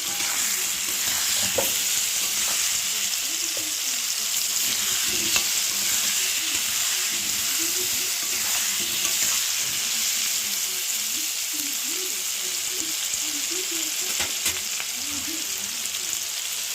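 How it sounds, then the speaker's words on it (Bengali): Potatoes and onions frying in a pan, a dense continuous sizzle with faint scraping of stirring running throughout, close up and without speech. "আলু পেঁয়াজটা ভাজা হচ্ছে।"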